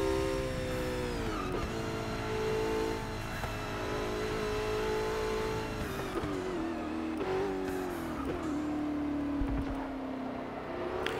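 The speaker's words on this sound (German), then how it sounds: "der LaFerrari geht ab auf der Geraden" LaFerrari in a racing game screaming down a straight, its high-revving engine steady and loud, with brief dips and climbs as gears change, alone without voices.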